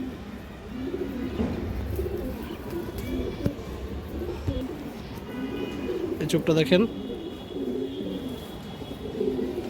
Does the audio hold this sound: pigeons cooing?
yes